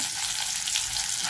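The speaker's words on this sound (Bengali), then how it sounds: "এই যে লোটে মাছটা ময়দার মধ্যে মিশিয়ে একটু ঝিরে এবার আস্তে করে তেলে ভাজতে দেবো।" Flour-coated loach fish fry in hot oil, giving a steady, close, bright sizzle that holds evenly throughout, with no voices.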